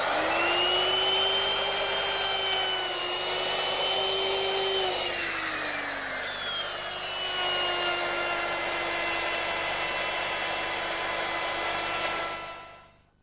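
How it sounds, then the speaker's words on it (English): Router with a rabbeting bit cutting a deep rabbet in wood: a loud, steady high-pitched whine with a dipping tone as the bit bites, running continuously before cutting off at the end. "I'm going to use my router with a rabbeting bit"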